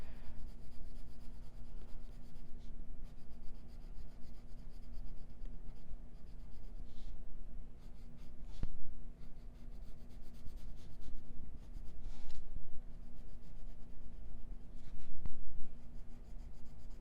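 Colouring on paper with firm pressure, blending colours: close, continuous scratchy rubbing strokes in steady passes, with a low constant hum beneath and no talking.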